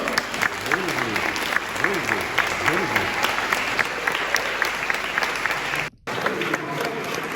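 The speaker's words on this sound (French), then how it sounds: "Eh bien, on les applaudit encore." Guests applaud a couple at a wedding ceremony just after the ring exchange: continuous, lively clapping from a crowd, with voices underneath and a brief dropout near the end.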